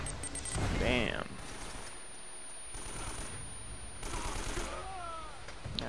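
Bursts of AK rifle fire in the video game Uncharted: Drake's Fortune, rapid automatic shots coming in several separate volleys, with someone talking over them between bursts.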